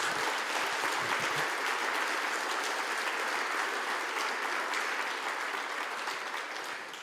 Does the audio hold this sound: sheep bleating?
no